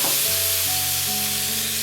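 Potatoes frying in a pan for Filipino goat kaldereta, with carrots to follow, give a steady close sizzle over a low hum, and a few faint tonal whines carry across it.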